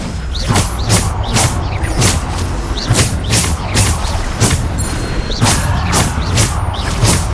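Repeated spell blasts and impacts from Bombarda and other combat magic in Hogwarts Legacy on PS5, a dense run of loud broadband bursts about every half second over a constant rumbling battle bed, with no voices.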